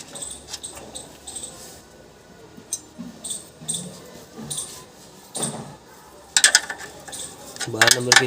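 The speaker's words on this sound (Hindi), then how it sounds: "बारह नंबर के स्पिनर से इसे लॉक कर देंगे।" Metallic clinks, ratcheting and scraping of a 12 number spanner locking nuts during a full service on a Maruti Suzuki Super Carry Turbo, irregular close clanks with a few louder bursts near the end.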